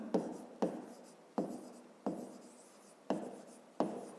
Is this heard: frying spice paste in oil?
no